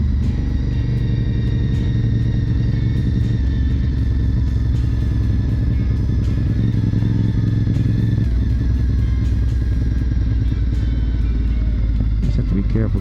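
A motorcycle engine ridden along Highway 5 from Waterdown toward Oakville, a steady, loud low rumble with a constant drone and a shift in pitch partway through, alone without talk.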